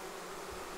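Honeybees from a swarm being installed in a hive produce a steady, close, dense buzz that holds an even drone throughout the brief moment, with no voices.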